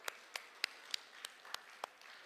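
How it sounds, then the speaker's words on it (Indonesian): Church congregation at a Sunday service clapping in a quick, sparse rhythm, about eight distinct claps, fairly faint and slightly distant, with no talk over them. "Tepuk tangan dulu buat Tuhan Yesus."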